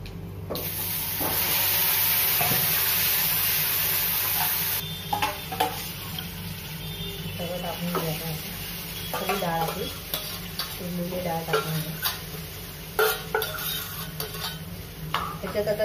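Red chilli powder hits hot oil in a sambar tempering with asafoetida, giving a loud, steady sizzle for the first few seconds, then quieter frying crackle under scraping stirs and light clinks of a spoon against the pot.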